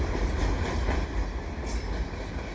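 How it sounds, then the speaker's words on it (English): A winter freight train hauled by rebuilt QNS&L AC4400CW locomotives rolls past close by, a steady loud rumble of wheels on rail with faint metallic rattling. "this is the train that's gonna make my day"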